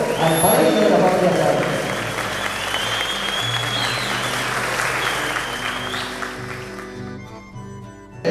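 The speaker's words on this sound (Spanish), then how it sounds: "Un fuerte aplauso para el pedido al país de la familia" Applause at a horse auction breaks out loudly, then continues under an announcer's amplified voice and background music before tapering off.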